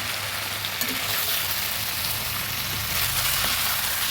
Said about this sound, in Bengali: ভালোভাবে নেড়ে দিচ্ছি ভালোভাবে মশলার সঙ্গে ভেজে নিয়েছি